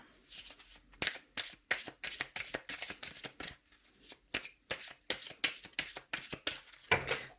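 Close, quiet riffling and slapping of a deck of tarot-style cards being shuffled and cut, a rapid irregular series of crisp papery flicks continuing for several seconds with no talk.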